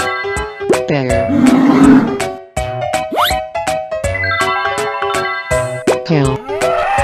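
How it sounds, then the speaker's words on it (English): Cartoon bear roaring in a 3D animal animation, a loud, growling roar amid busy playful music and cartoon sound effects with boings and plops over about seven seconds. "bear,"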